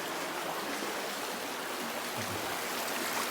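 Mountain river water rushes and splashes steadily nearby, a constant broadband flow with no voices.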